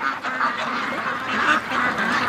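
A flock of free-range ducks gives a dense, continuous wash of overlapping quacks and honks at moderate distance, with no talking.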